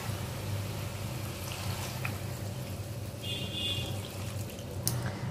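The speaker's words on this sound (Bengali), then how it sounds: "গরম জল দিয়ে দিলাম" Hot water poured into a pot of braised meat, a continuous close pouring and bubbling wash, moderately loud and steady, with no voices.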